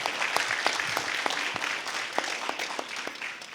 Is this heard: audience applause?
yes